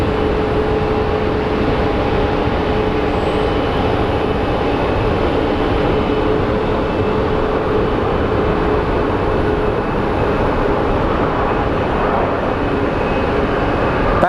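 A plane landing on runway 25 right at Phoenix Sky Harbor airport, heard as a steady, loud, continuous engine roar with a broadband rumble that holds unchanged throughout, with no talk.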